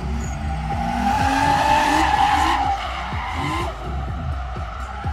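Drift cars sliding at a Drift Masters Grand Prix show in Kraków, with loud sustained tire squeal and revving engines rising and falling as cars hold long slides, close and continuous throughout.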